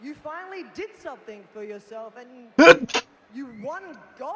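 A short, sharp burst of breath cuts through a person's speech, like a sneeze, followed by a brief pause before talking resumes.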